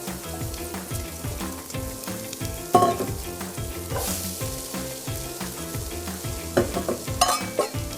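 Diced onions, celery and carrots sauté in a soup pot with a steady sizzle, broken by repeated scraping stirs and a few louder clinks of the spoon against the pot, heard close and with no talking.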